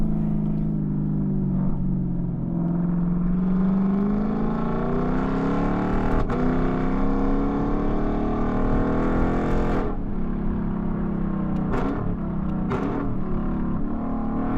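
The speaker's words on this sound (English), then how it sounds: "those downshifts are absolutely fire, especially with the paddles" A Lexus LC500 coupe's V8 drones steadily and close, its pitch climbing and falling, with sharp blips toward the end as the paddle-shifted gearbox drops gears.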